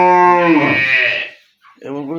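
A pure Deshal cow, a local Bangladeshi breed kept for milk, gives a loud, close moo that stretches over a second, then starts a second, shorter call after a brief pause.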